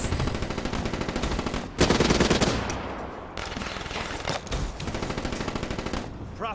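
Rapid automatic gunfire from the Call of Duty Black Ops III video game, dense bursts of loud shots with short pauses and a lull midway before firing resumes.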